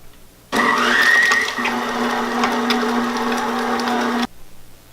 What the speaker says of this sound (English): continue mixing on a medium speed, scraping as you go